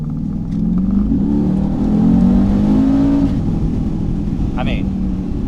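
A 2021 Mercedes-Benz G63 engine accelerates from inside the cabin, a steady mid-pitched growl rising and holding through the shifts while someone talks over it.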